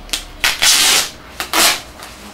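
A plastic squeegee pressed and dragged across a large, full-colour laminated vinyl wrap panel being laid onto the side of a van, giving several close, loud swiping rubs in quick strokes, with no talking.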